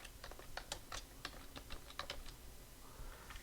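Quiet clicking of fingers typing names on a computer keyboard, a quick irregular run of keystrokes with short pauses and no talking, faint and close.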